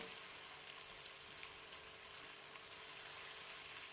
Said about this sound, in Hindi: और प्याज को करना है हमने फ्राई, गोल्डन फ्राई हम करेंगे।